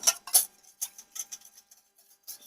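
Bread dough mixture with onion and spice being stirred in a bowl, a few irregular scraping and clinking strokes, close and fairly quiet, with gaps between them.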